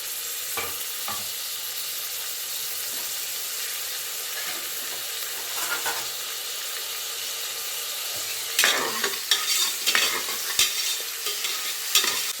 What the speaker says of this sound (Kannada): ಒಗ್ಗರಣೆಗೆ ಬಂದು ನಾನು 1 ಈರುಳ್ಳಿ ಹಾಗೆ ಸ್ವಲ್ಪ ಕೊತ್ತಂಬರಿ ಸೊಪ್ಪನ್ನ ಕಟ್ ಮಾಡಿದ್ದೀನಿ ನೋಡಿ, ಅದನ್ನು ಹಾಕ್ತಿದ್ದೀನಿ ಈಗ.